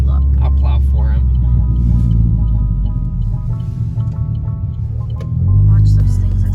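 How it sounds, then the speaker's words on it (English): A lowered, slammed stance car scrapes and plows through deep snow in a snowstorm, with a loud, steady low engine rumble and grinding scrape that swells near the end. "it's like I'm scraping but also plowing"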